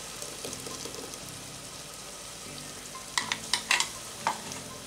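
Sautéing in a pan for green tomato tamarind curry, a steady low sizzle with soft stirring scrapes, then a burst of sharper clinks and spatula knocks near the end, close and moderately quiet.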